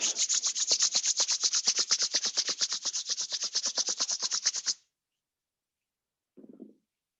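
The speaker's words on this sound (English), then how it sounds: "Rub your palms." Palms rubbed briskly together in a fast, steady back-and-forth rhythm for several seconds during a yoga session, close and fairly loud, then stopping; a brief soft low sound follows after a pause.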